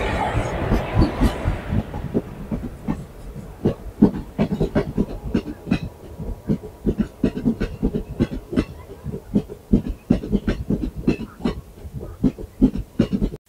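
Matsyagandha Express running on the Konkan Railway, with a steady rumble and a dense run of sharp, rhythmic wheel clacks over rail joints that continue throughout, heard up close and loud.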